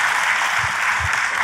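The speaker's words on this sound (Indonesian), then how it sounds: "Tepuk tangannya pula yang paling meriah buat Tuhan kita." Church congregation applauding during a sermon, a steady, dense wash of clapping that fills the whole moment, loud and continuous, with no voices over it.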